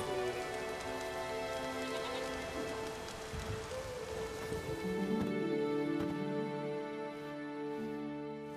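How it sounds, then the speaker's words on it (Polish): Steady rain falls in The Witcher 3: Wild Hunt, a dense continuous hiss of drops on surfaces with layered game music and ambient tones beneath, loud and unbroken throughout. "nie ma co stać na deszczu"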